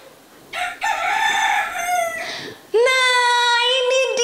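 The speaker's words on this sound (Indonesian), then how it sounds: "Nah ini dia suara ayam berkokok." A rooster crows loudly and close, a long harmonic cock-a-doodle-doo followed by a second sustained call, filling the whole stretch without talk.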